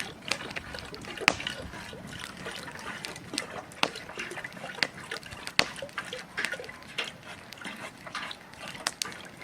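Birch sap being strained into a pot outdoors, a soft steady trickle of liquid with scattered sharp drips and taps, fairly faint throughout.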